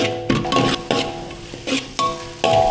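Loud sizzling as aromatics sauté in hot oil with a splash of plain water, a utensil repeatedly stirring and scraping the pan in bursts, close up.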